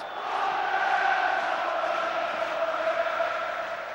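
Football stadium crowd at a Bolton Wanderers vs Wigan Athletic match sends up a sustained, distant roar of voices that swells slightly and holds steady throughout.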